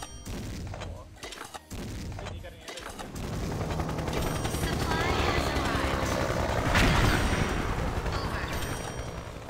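Rapid bursts of gunfire in the online shooter XSHOT, dense and continuous through most of the stretch, with mechanical game effects and a player's voice over it.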